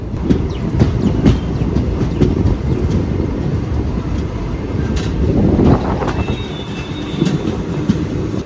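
A passenger train rolls slowly along the rails near a leafy station on a monsoon journey toward Talguppa, with a loud steady rumble, clattering wheels and occasional squeals close by.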